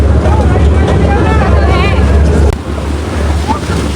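Boat rocking on the sea on the way to Elephanta, with a low engine drone, wind noise and waves washing around the hull, and people talking over it throughout.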